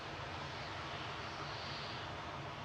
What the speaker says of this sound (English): we've got a couple more taxiing over